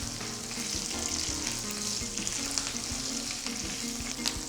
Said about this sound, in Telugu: కొంచెం కరివేపాకు, ఇప్పుడు కొంచెం ఇంగువ పౌడర్. ఇప్పుడు వీటిని కొంచెం బాగా ఫ్రై చేసి